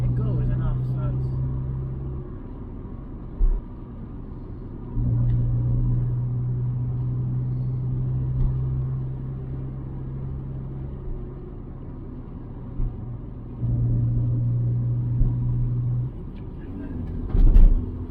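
The 1998 Ford Escort Mk6 Finesse with its 1.6 16v engine drives in fourth gear, giving a steady low in-cabin engine drone and road rumble while people talk over it.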